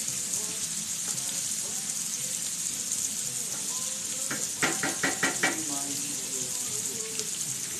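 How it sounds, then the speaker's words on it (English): Cabbage and onions sizzle in bacon grease as they sweat down in a pan, a steady close frying hiss with a few knocks and clinks of a utensil partway through and faint talk in the background. "All we're doing to this cabbage is just sweating it down, okay? In that bacon grease"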